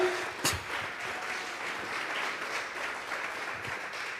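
A church congregation claps hands as an offering of praise during a sermon, a steady, dense patter of many hands filling the room for several seconds without speech.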